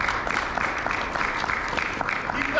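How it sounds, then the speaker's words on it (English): Applause from a convention audience at a comic book panel, a dense steady wash of clapping lasting the whole moment without a break. "Give yourselves a round of applause for being the last team standing."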